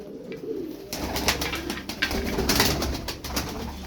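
Tumbler pigeons coo softly and repeatedly, close by, with rustling and fluttering mixed in.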